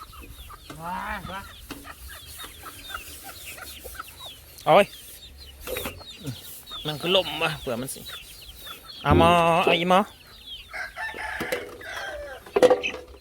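Chickens cluck and squawk close by in short bursts, with a rooster crowing briefly, while people talk over them.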